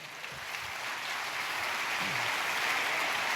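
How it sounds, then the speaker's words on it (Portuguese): An audience in a church service applauds, a steady, soft wash of clapping that swells slightly and sounds distant, with faint voices underneath. "Você pode aplaudir o Senhor?"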